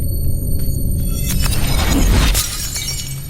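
Glass shatters in a dramatic film scene, a loud crash of breaking shards over a low rumble that fades after a couple of seconds, with no speech.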